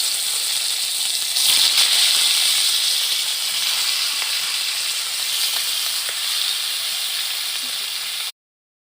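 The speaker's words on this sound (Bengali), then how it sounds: "এবার আমি মাছগুলোকে ভেজে নেব মাছগুলোকে ভেজে নেওয়ার জন্য আমি এখানে আগে থেকে সাদা তেল দিয়ে রেখেছি" Fish sizzling as they fry in hot white cooking oil, a steady loud hiss and crackle that swells briefly after they drop in and carries on evenly until it cuts off.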